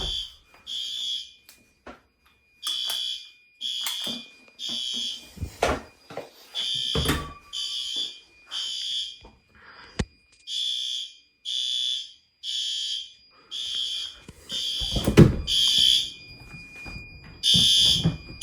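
A fire alarm's main horn strobe sounds during a building's routine emergency systems test. Loud, repeating horn blasts pulse in an even rhythm, with a few knocks and handling noises mixed in between the blasts.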